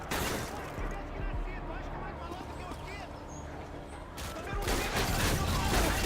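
A grenade blast and gunfire in Call of Duty Modern Warfare 2 make a dense, continuous roar of battle noise, with crackling shots throughout and a heavier surge of explosive rumble near the end.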